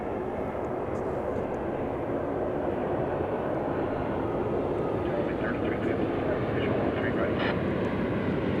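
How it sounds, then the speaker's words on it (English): A Boeing 787 Dreamliner arriving from the Hawaiian Islands at DFW Airport gives a continuous, loud, broad engine roar that holds steady throughout, with faint higher whines drifting in near the end. "here comes the Dreamliner from the Hawaiian Islands"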